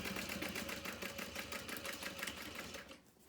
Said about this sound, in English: we're just gonna slowly backstitch